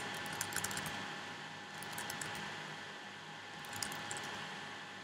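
A computer keyboard being typed on while writing into a chat app: soft, quiet clicks in three short bursts over a steady low room hum.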